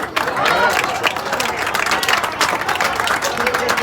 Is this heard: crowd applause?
yes